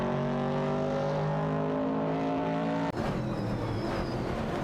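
Race cars, among them an AMC Javelin 70, roar in a racing video game, one steady engine drone holding a constant pitch before cutting abruptly to a rougher, shifting mix of engine noise.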